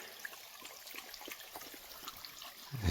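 Spring water flowing out through a lake dam during a heat wave, a steady soft trickle and babble heard close and fairly faint, with no voices.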